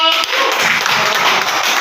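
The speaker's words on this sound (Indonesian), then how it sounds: "Tepuk tangan dulu dong" An audience claps after an earthquake simulator demonstration at a study event in Bandung. The clapping is dense, continuous and fairly loud, and lasts only a couple of seconds.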